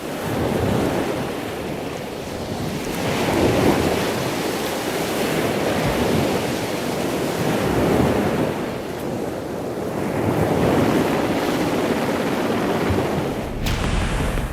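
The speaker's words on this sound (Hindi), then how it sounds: "अरब सागर की उफनती लहरें" Surging Arabian Sea waves off Porbandar, Gujarat, roar continuously in slow swells, mixed with heavy wind buffeting the microphone, with no voices.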